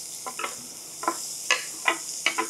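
Onion dropped into a hot tempering of dried red chillies and curry leaves for red lentil dal with spring onions, a steady soft sizzle broken by several distinct scraping stirs at an uneven pace, close by.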